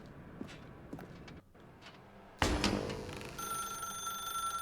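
Telephone ringing in The Stanley Parable video game, a sudden bright ring bursting in after soft footsteps and lingering with a sustained tone.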